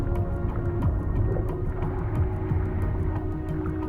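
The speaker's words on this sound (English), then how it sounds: "That's when I'd hear another diving tank." Underwater ambience from the game Rust, with a low muffled drone and a steady hum from another player's diving tank nearby, bubbly rumble and faint periodic clicks running continuously throughout.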